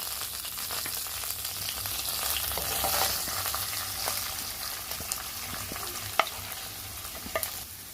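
Onions sizzle in hot oil after the cumin seeds have spluttered, producing a steady moderate frying hiss with scattered crackles and a few sharp pops toward the end.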